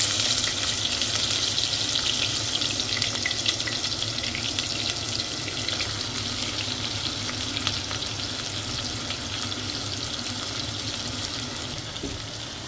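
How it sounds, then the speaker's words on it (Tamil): Onion, green chili and curry leaves fry in oil left from frying drumsticks, for a Sri Lankan Mannar-style curry. A loud, dense, steady sizzle runs unbroken throughout with no voices. "முருங்கைக்காய் பொறிச்ச எண்ணெய்க்குள்ளேயே கொஞ்சம் கூட எண்ணெய் விட்டு இப்போ நாங்கள் வெங்காயம் பச்சை மிளகாய் கருவேப்பிலை எல்லாம் போடுக்கிறோம்"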